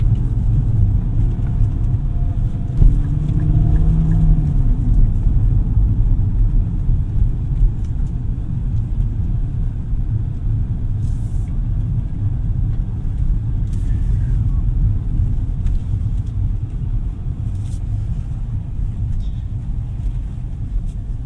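A 2024 Nissan Z sports car's engine rumbles in a steady, moderately loud drone from inside the cabin on a test drive, with no clear rev spikes.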